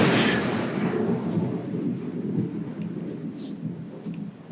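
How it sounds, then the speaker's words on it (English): Thunder rolls through a lightning storm, a sharp crack at the start fading into a long low rumble that fills the whole stretch, fairly loud and close with no talk over it. "that was thunder, and the electricity went out all around me"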